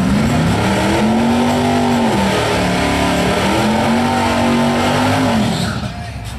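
A drag race car does a burnout at a drag strip, its engine screaming at a sustained high pitch with tire roar, loud and continuous for several seconds before tapering at the end, with voices faintly underneath.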